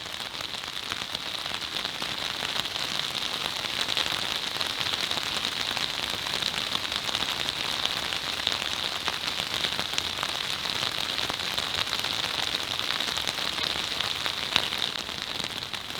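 Steady driving rain hisses and patters continuously over a hillside cemetery, a dense wash of drops with no break and no voices.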